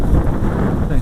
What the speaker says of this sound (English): Definitely windy. It's breezy.